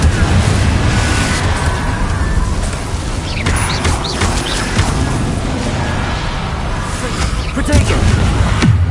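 Repeated Confringo blasting-spell explosions in the Hogwarts Legacy video game, dense rumbling booms and bursts layered over continuous battle noise, steady and loud throughout with no clear gaps.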